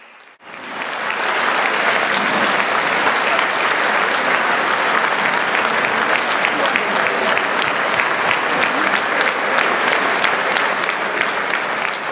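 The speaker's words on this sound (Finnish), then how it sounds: "Päätös sai osakseen raikuvat aplodit." Loud, sustained applause from a crowd at a party meeting of Denmark's Red-Green Alliance, rising abruptly and continuing steadily without speech.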